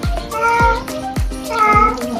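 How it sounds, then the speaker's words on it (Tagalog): A cat meows repeatedly during a bath, four loud, close, drawn-out cries in quick succession with an agitated, complaining tone. "Kung may naririnig po kayong boses dyan ng pusa"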